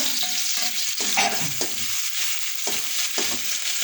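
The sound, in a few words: dried red chillies and garlic frying in oil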